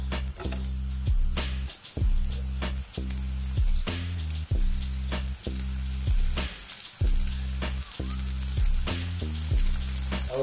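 Tomatoes sizzle in olive oil in a pan, a close, steady crackling fry broken by sharp stirring clicks, with a low droning tone running underneath and no voices.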